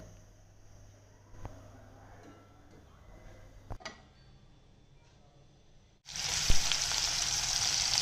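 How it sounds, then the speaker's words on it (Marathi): Oil heats in a kadhai: a few faint clicks and taps over quiet background, then a sudden loud, bright sizzle bursts in and holds steady for the last couple of seconds. "एका कढईमध्ये तेल गरम करायला ठेवूयात।"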